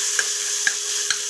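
Ginger and garlic paste, chopped green chilli and tomato sizzle steadily in a pan, with a soft stirring scrape sounding three times over the constant frying hiss, close and fairly quiet.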